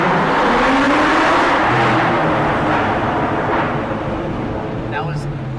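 A car engine revs at half throttle at a college car meet, a loud rising roar that swells and then eases off, with people talking nearby.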